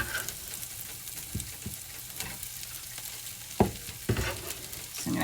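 Cubed potatoes fry in a skillet with a steady, even sizzle and crackle, broken by a few sharp stirring clatters and scrapes, close and fairly quiet with no talking.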